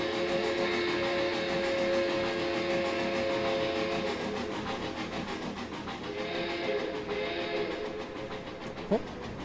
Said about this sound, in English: Our passenger train on a route with no stations.